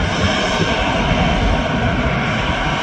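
A Ryanair jet airliner roars at Manchester Airport, a loud, steady, broadband engine rush filling the whole stretch with no letup and no voices.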